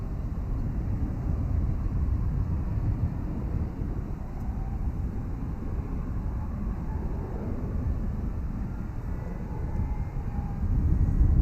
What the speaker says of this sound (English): Looks like the afternoon departures for UPS are taking place.